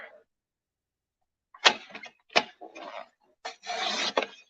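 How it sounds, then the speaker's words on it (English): A paper trimmer slicing through two stacked pieces of cardstock, heard as several short, close scraping and rasping strokes separated by silence in a quiet craft room. "the trimmer will cut through 2 pieces of cardstock there"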